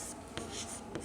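A pen scratches out Hindi letters by hand in a quick burst of soft strokes with small taps and pauses, heard close and fairly quiet.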